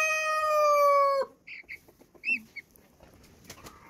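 A chicken flock on a farm opens with a long, loud drawn-out crow or squawk, followed by scattered softer clucks and short calls nearby.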